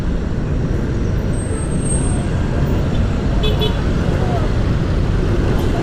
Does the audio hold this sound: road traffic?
yes